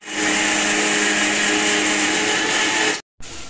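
A mixer grinder whirs steadily at full speed, pulverizing garlic and ginger into paste for an egg curry, then cuts out abruptly near the end before briefly restarting.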